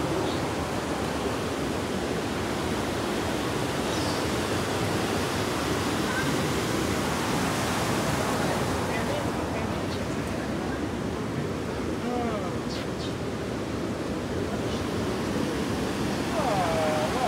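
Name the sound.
ocean waves on a beach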